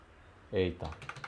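Brief typing on a computer keyboard while modelling in Dynamo for Revit: a few quick clicky keystrokes after a short voiced sound, close and fairly quiet.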